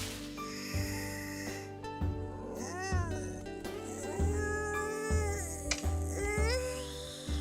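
Cat meows and snuffling caterwauls from a visual novel game, several drawn-out pitched calls rising and falling over a steady low musical background.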